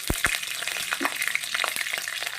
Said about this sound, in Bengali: এবার ওই তেলে আমি দিয়ে দেব দুটো শুকনো লঙ্কা দিয়ে দেব আর দিয়ে দেব তিনটে কাঁচা লঙ্কা